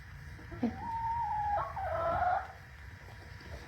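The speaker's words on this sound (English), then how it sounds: "They're the happiest little chickens." Chickens cluck and squawk in their coop, a few close, wavering calls rising and falling over a quiet, muffled background.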